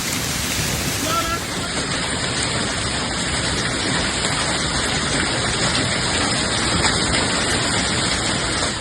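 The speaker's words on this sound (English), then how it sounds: "A rare overnight hailstorm struck northern Colorado on Tuesday morning, pummeling areas along the northern corridor of Interstate 25 with baseball-sized hail." A rare overnight hailstorm in northern Colorado pounds the ground with dense, steady, roaring impacts, loud and continuous throughout, with no talk.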